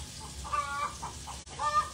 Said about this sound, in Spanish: Miren cómo están cantando las gallinas.